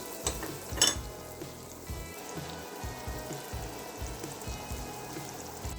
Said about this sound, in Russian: Хорошо разогретое масло высыпаем нарезанный кубиками лук.